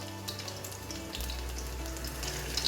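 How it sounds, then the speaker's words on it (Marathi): Garlic fries in hot oil for a Malvani mackerel fish gravy, a continuous close sizzle with fine crackles over a low hum, with no one speaking. "आता ह्याच्यात आपण घालणार आहोत लसूण, लसूण थोडी लाल करून घ्यायची."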